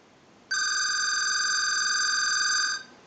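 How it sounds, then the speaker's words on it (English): A desk telephone's bell rings from a test ring cycle sent by a line analyzer during repair: one steady, loud metallic ring lasting about two seconds, starting abruptly and cutting off cleanly, in a quiet room. "use the analyzer and send a ring cycle like you were getting a call"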